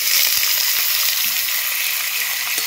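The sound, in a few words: paneer frying in mustard oil in a wok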